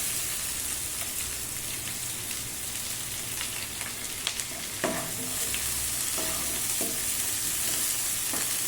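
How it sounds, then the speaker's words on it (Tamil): Onions with curry leaves sauté in a pan with a continuous crackling sizzle, broken by a few sharp stirring clinks and scrapes of a spoon in the second half. "வெங்காயம் நல்லா வதங்கட்டும்."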